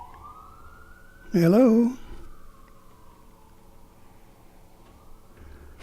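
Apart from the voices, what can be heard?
emergency vehicle sirens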